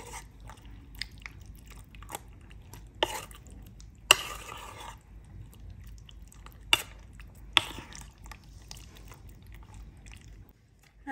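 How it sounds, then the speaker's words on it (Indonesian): Empek-empek mixture made with fish crackers is stirred in a pan, giving soft scraping and clicking touches with a few sharp knocks against the pan, fairly quiet and close, with no talking. "Kita aduk rata ya teman-teman."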